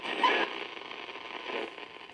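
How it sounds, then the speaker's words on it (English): Steady hiss of radio static from a spirit box ghost-hunting device, fairly quiet and continuous, with a slightly louder burst near the start and another swell toward the end. "you can hear that I'm letting more static come through as I release more of the effect"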